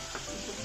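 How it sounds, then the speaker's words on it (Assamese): Two pieces of basa fish fry in hot oil in a pan, giving a dense, steady sizzle that stays loud and close throughout the brief moment. "আজি মই 2 পিস মাছ ভাজি বনাই আছো"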